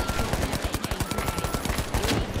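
Rapid automatic gunfire aimed at a turret in the video game The Finals, a dense run of close, loud shots repeating evenly for a couple of seconds with no talk.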